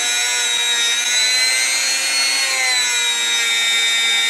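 A Harbor Freight rotary tool polishes with yellow compound, holding a continuous high-pitched whine with a slight wavering pitch, loud and close throughout.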